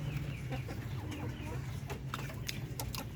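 Breeder chickens, a rooster and hens, cluck softly in a farm pen over a steady low background rumble, with someone talking throughout and faint bird calls mixed in.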